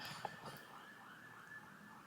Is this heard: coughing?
no